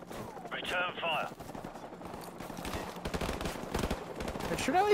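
Bursts of rapid video game gunfire rattle through the clip, mixed with game effects and background chatter, growing denser toward the end.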